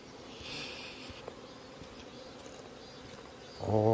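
A small hornet, Vespa ducalis, buzzes around beehives with a wasp trap set between the hives: a steady, fairly quiet insect drone, swelling briefly near the start and growing louder and closer in the final half-second.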